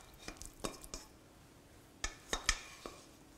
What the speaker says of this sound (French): Nous incorporons la pâte dans nos courgettes.